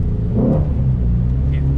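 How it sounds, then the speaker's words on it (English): Deep, throaty rumble of a 2020 Ford Shelby GT500 exhaust rising as the engine revs, close and loud, with a voice mixed in. "And the sound of that exhaust, magical."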